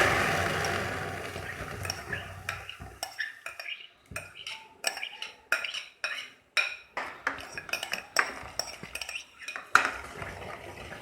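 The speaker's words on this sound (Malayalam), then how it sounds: "അതിലേക്ക് ഞാൻ പപ്പായ ചേർത്ത് കൊടുക്കാം." Papaya goes into a hot steel pan on the stove, producing a quick series of sharp metallic clinks and scrapes from a utensil against the pan, irregular and close, with short quiet gaps between strikes.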